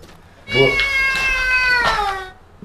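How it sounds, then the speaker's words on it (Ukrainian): A cat lets out one long, loud, drawn-out meow up close as it is let into a newly bought flat. The wavering cry lasts nearly two seconds, with only faint background noise around it. "перші кота до хати пускає"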